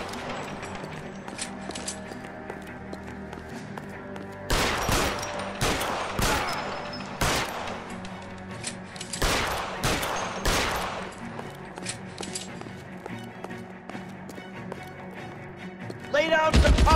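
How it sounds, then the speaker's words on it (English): Rapid bursts of gunfire in the video game L.A. Noire crackle in loud clusters against a steady background, with a voice speaking over parts of it. "Lay down some covering fire!"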